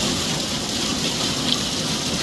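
Heavy rain with hailstones pours in a steady, hissing wash with a faint tapping patter, continuous and close, with no voices.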